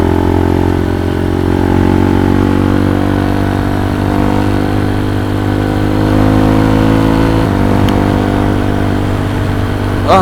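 A motorcycle cruises at a steady speed late at night, its engine humming in a constant, even drone with stable pitch for the whole stretch.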